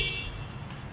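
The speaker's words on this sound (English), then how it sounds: "And then you want to check the horn on the truck." A truck horn is sounded during a pre-trip safety inspection, giving one short steady blare at the start that quickly fades into low background rumble.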